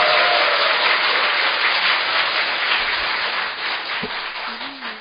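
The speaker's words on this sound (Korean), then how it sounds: "모두 뜨거운 박수로 맞이주시기 바랍니다" Loud, dense applause from an audience at the opening of a Korean forum on school nutritionists, sustained clapping that fades slightly toward the end.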